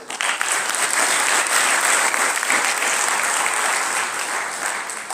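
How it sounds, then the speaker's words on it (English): A large audience at a university gathering in Nairobi, Kenya applauds the organizers, a thick, continuous roar of clapping that swells early, holds steady, then eases slightly toward the end, with no voices over it. "Please clap for all the organizers"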